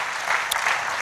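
A church congregation applauds during a sermon, a brief dense burst of clapping close and fairly loud throughout.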